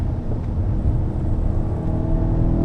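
A BMW E92 M3 with a six-speed manual and naturally aspirated engine gives a steady, loud, low rumble that holds an even drone throughout, with no clear revving or pauses.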